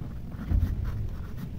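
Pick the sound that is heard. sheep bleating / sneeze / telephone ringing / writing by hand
writing by hand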